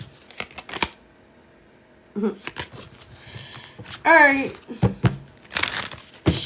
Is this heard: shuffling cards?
yes